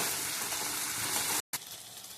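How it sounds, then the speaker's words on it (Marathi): Mashed tomato dropped into hot oil to fry for a roasted eggplant dish, a loud hissing sizzle that cuts out briefly before continuing more softly. "आता आपण टमाटरचं जे कूच केलं होतं ते टाकूया आणि याला पण छान आपण तेलामध्ये कडवून घेऊया"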